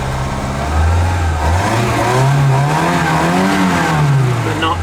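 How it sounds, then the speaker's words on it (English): A 1976 Peugeot 204 barn find engine revs loudly on the throttle, its pitch climbing and wavering close by, then sagging as it struggles with a high idle and threatens to stall. "And she dies almost immediately as soon as I touch the throttle."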